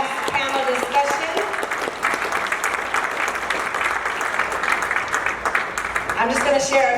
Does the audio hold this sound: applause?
yes